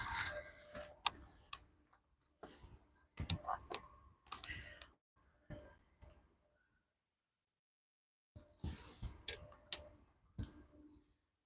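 A fishing rod and reel are readied outdoors, with bursts of close clicking and ticking from the reel, broken by a silent gap before a final burst.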